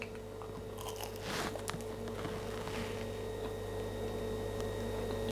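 Biting into a homemade creamy chicken pastry plait, with a few crisp crunches of flaky pastry followed by soft chewing, close to the mic over a faint steady background hum, no talk.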